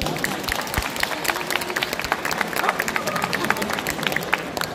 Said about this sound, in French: vous pouvez l'applaudir, s'il vous plaît.